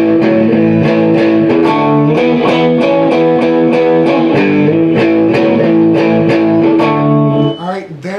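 Distorted electric guitar plays the post-chorus tag of a song, a loud repeating lick with steady rhythmic picked notes throughout, ending with a brief bend or slide.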